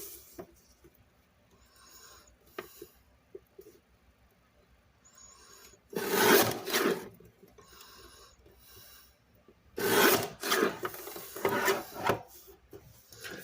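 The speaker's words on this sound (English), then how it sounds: "this is another reason why I don't like using guillotine trimmers, because they don't trim all the way sometimes" A guillotine paper trimmer cuts card scraps in two separate short slicing strokes, each a close, dry scraping rasp, with quiet handling sounds in between.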